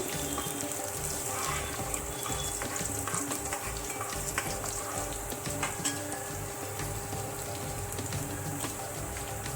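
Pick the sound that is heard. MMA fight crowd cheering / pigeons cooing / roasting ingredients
roasting ingredients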